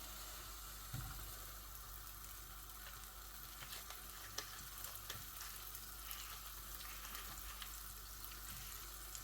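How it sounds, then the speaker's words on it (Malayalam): Butter melting in a hot pan gives a steady, soft sizzle that runs evenly throughout, with faint crackles and light kitchen clatter and no talking. "പാനിലോട്ട് നമുക്ക് ഒരു ചെറിയ ക്യൂബ് ബട്ടർ ഇട്ട് കൊടുക്കാം."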